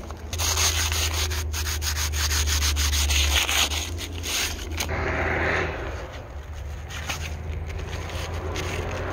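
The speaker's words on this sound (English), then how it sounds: "you just need some sandpaper and you just kind of give it a rough scrape to kind of take off that covering" A wooden tool handle rubbed by hand with sandpaper to strip its coating: close, continuous rasping strokes in a steady back-and-forth rhythm, loud at first and then easing slightly.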